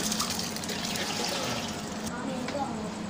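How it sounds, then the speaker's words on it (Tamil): Rice poured into a pot of boiling water for Tamil-style chicken dum biryani, a steady bubbling and watery rush with a light pouring trickle throughout, close by. "இந்த ஸ்டேஜில் நான் எடுத்து வச்சுருக்கிற அரிசி எல்லாத்தையும் உள்ளே"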